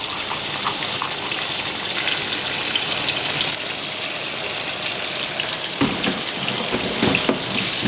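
A washing machine fills with water to rinse sheets: a loud, steady gushing rush of water runs throughout, close to the microphone.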